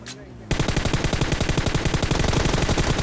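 Automatic gunfire in PUBG Mobile: after half a second of quieter game ambience, a loud, sustained rapid burst of shots rattles on steadily to the end, close and dominant.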